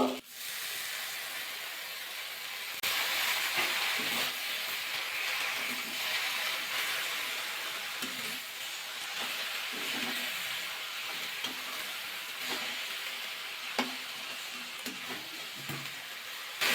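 Bottle gourd leaves with moong dal, potatoes and vegetables fry and hiss in a pan, a sustained steamy sizzle that surges after the leaves go in, punctuated by soft stirring scrapes.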